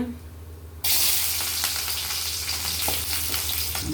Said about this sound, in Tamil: எண்ணெய் ஊற்றுறாங்கங்க கடுகு போடுறாங்க சின்ன வெங்காயம் போட்டுக்கலாங்க